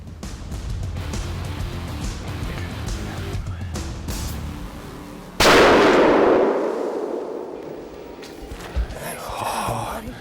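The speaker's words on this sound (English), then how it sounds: "I shot another nice, you know, whitetail for Saskatchewan." A single sharp rifle shot fired at a whitetail deer during a Saskatchewan hunt, a loud sudden crack midway that rings out and decays over a couple of seconds, framed by quiet rustling and breathing.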